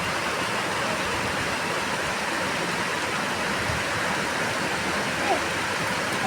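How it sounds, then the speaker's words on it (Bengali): Rain falling heavily outdoors makes a dense, steady hiss of broadband noise that stays loud and constant throughout, with no voices heard over it. "কত সুন্দর বৃষ্টি হচ্ছে"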